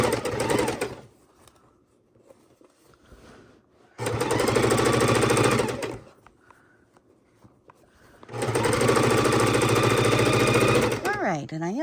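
A sewing machine stitches binding onto a heavy king-size quilt, running in three steady motorized bursts of several seconds each, separated by quieter pauses.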